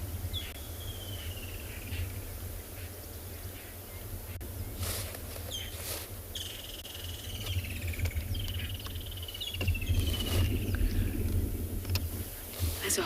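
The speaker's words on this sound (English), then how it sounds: "You'll also be able to hear some woodland kingfisher and lilac-breasted rollers." Several chirping, whistled woodland kingfisher and lilac-breasted roller calls ring out intermittently over a steady low rumble and insect hum at sunrise in South African bush, some notes falling in pitch, moderately distant.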